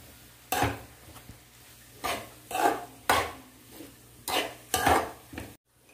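A spoon stirs a poha mixture of flattened rice in a pan, giving about six rhythmic scraping sweeps with soft metallic clinks, close and fairly loud over a faint background hum.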